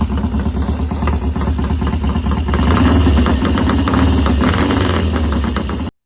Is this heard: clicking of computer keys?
no